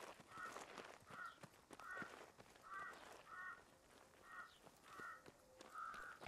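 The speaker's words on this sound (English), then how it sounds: "Sounds like a crow." A crow caws repeatedly in a military shooter game set on a Belarusian map, about eight evenly spaced harsh calls at moderate distance over quiet ambience.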